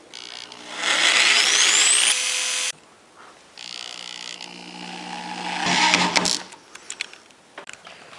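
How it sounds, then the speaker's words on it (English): A power drill whines loudly into wood in bursts while building a fume hood, stopping and starting again, with clattering handling noises between runs. "Now we're going to drill the hole on the other side of the corner."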